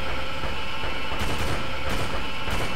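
Dense, continuous rapid gunfire in a tank video game, with bursts of sharp cracks, loud and close, sustained throughout without pause.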